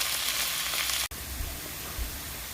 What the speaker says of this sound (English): The garlic, onion, and tomatoes are all cooking up nicely together.